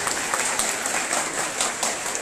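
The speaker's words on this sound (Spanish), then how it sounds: "Un aplauso fuerte para todos." Brief burst of audience applause at a school science olympiad gathering, dense and even, with no voices over it.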